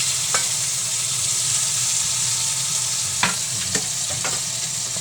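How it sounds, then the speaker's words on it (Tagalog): Onions stirred as they fry for chicken steak, a constant loud sizzle with a few brief scrapes and taps of the spatula against the pan. "Hinalukat-halukat na yung sibuyas"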